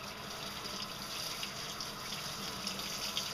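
Water streams steadily from a tap or sprayer while a dog's coat is wetted out and rinsed, working up toward the body; a constant hiss with light splashing runs throughout, fairly faint and without talk.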